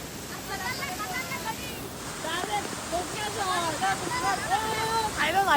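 Swollen, risen river water rushes past in a steady, broad roar that stays constant throughout, with voices talking over it.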